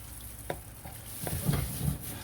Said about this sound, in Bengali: আর এই যে বানানো হচ্ছে এখানে তেলের পিঠা